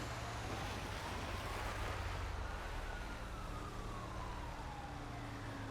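An ambulance siren in the video game GTA 5 wails steadily for several seconds, rising and falling in slow sweeps over a constant traffic rumble with no speech.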